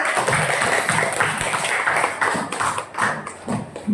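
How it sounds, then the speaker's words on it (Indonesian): Classroom group applause after group presentations, dense steady clapping from many hands close by, continuing throughout with a few uneven swells. "Beri tepuk tangan buat kita semua"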